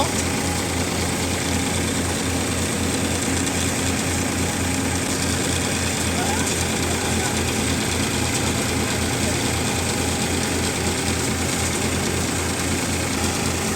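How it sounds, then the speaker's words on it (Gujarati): A tractor engine running a thresher drones loudly and continuously under a steady mechanical hum, its pitch sagging slightly as RPM drops by about a hundred and recovering; a voice may be talking faintly beneath. "અહીંયા જુઓ ટ્રેક્ટર આરપીએમ ડ્રોપ કરે છે લગભગ સો"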